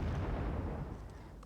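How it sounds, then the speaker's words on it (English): Cluster bombs exploding in the war strategy game Wargame Red Dragon make a loud, dense rumble of overlapping blasts that swells at once and slowly tails off. "Cluster bombs out."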